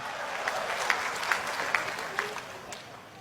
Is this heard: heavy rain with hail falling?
no